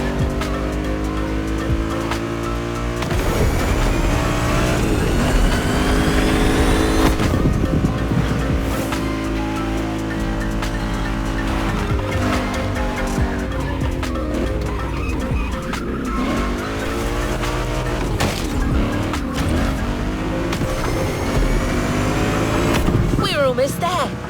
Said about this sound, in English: you'll be driving a BMW, wind in your hair, in one of the most heavenly places on the planet